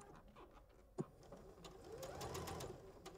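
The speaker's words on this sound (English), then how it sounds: "I'm going to sew from corner to corner on my drawn line" A sewing machine stitches quilt binding from corner to corner, a steady, quiet mechanical whir with a soft click early on, close but low in level.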